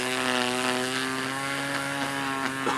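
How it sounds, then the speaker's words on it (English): A motorised hedge trimmer buzzes steadily with a loud, droning engine tone while trimming around hedges, close and continuous with no pauses. "busy doing the last bit of the trimming around the hedges"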